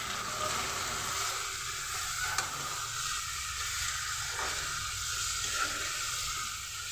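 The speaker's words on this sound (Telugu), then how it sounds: "అదిగో చూడండి చాలా అంటే చాలా బాగా ఫ్రై అయ్యాయి" Sun-dried mutton pieces fry in a pan with tomatoes, giving a steady, close hiss of sizzling oil that holds evenly throughout, with no voices.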